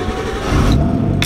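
Car with an RB20 engine revving up close, a loud low rumble that rises in pitch and holds briefly, ending with a short sharp high burst.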